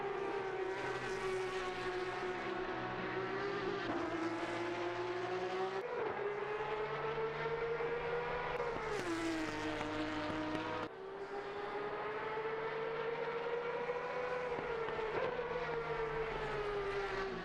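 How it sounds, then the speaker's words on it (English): Porsche GT3 Cup race cars lap Watkins Glen in a racing video game, a continuous high engine whine rising and falling with gear shifts, several cars passing in sequence without talk. "Let's look at some cars around the track."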